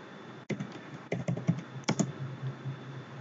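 Quick, irregular bursts of keystrokes on a computer keyboard while text is entered in a Linux terminal text editor; close and fairly quiet, with short pauses between clusters of taps and no talking.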